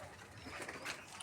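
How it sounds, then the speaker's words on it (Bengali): Domestic and foreign-breed pigeons on a rooftop garden give a faint, brief, low coo at a distance. "কবুতর আছে, দেশি জাতের কবুতর আছে"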